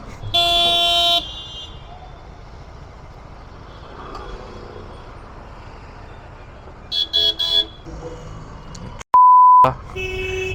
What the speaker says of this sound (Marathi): खूप ट्रॅफिक आहे.